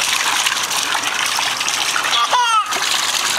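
Water sprays from a garden hose in a steady loud hiss and splatter, close by, with a voice briefly heard over the gush.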